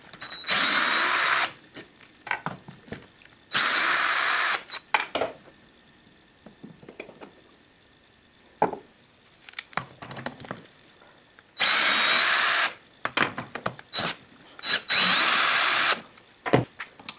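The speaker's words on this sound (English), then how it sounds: "Now let's spin them off with the DeWalt." A DeWalt power drill spins the jaws off a Wilton bullet bench vise in several loud, short whirring bursts, separated by quieter clinks and handling clatter, with no talking.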